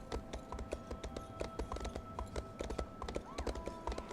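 Hooves of an Imperial horse in Elder Scrolls Online clip-clop in a quick, steady rhythm of sharp taps, moderately loud and alone.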